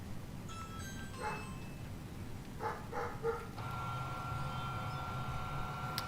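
A dog barks loudly in a few short bursts close by indoors, over a steady background hum and faint tones from a flight simulator.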